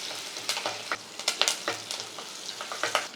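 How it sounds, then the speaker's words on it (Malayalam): Green chillies fry in a pan, a faint sizzle punctuated by short scraping stirs and light taps in an irregular rhythm, close by and quiet. "പച്ചമുളക് ഇട്ട് കൊടുക്കുക."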